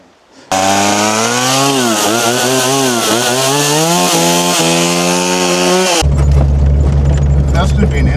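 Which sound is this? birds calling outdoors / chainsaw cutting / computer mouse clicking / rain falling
chainsaw cutting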